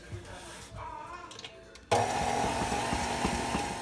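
An electric mixer beats butter and sugar together, starting abruptly partway in as a loud, steady whirring drone that continues to the end after a quiet opening.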